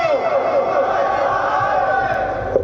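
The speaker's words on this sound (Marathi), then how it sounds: "एवढ्या घोषणा होत आहेत, एवढा उत्साह आहे, जल्लोष आहे." A large crowd at an Uddhav Thackeray political rally in Kannad chants slogans and cheers: a dense, sustained roar of many voices with rising and falling chant lines, loud and unbroken throughout.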